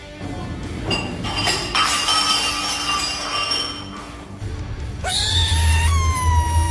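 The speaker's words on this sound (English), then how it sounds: "You're a cat." A pet cat meows and caterwauls indoors in several drawn-out, rising cries, close and fairly loud, with glassy clinks and a low hum beneath.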